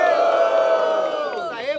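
A live crowd at a Brazilian freestyle rap battle, Batalha do Coliseu, shouts and cheers for the rapper MT, a loud sustained roar of many voices with whoops rising and falling across the whole stretch.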